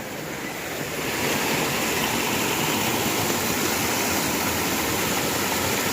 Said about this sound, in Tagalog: Napakalakas ang tubig agos.